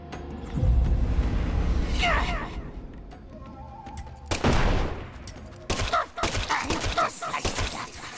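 Video game gunfire crackles in loud, close bursts and rapid volleys separated by quieter gaps, with a voice talking over parts of it.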